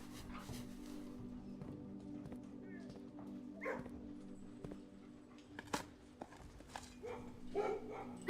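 Dogs bark and yip in a kennel room in the video game Blue Prince, short scattered barks over a steady humming game soundtrack, fairly faint and intermittent.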